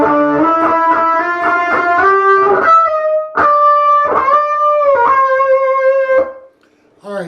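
Electric guitar picking out octave notes from a passage: a quick run of bright, slightly driven plucked notes, then longer ringing octave pairs, clear and close, ending in a brief silence.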